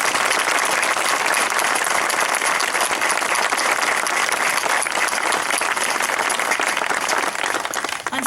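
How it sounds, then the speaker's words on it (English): An outdoor crowd at a Vietnam Moving Wall memorial event applauds Vietnam veterans and their loved ones with loud, thick, sustained clapping that barely varies in strength from start to finish. "Please join me in a round of applause for all of our Vietnam veterans and their loved ones."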